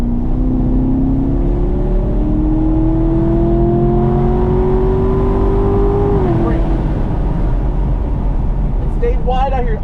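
A car engine pulls steadily around the Burt Brothers Motorpark East Track, its revs climbing under throttle then dropping sharply before building again, loud and close throughout, with an instructor's voice talking over it.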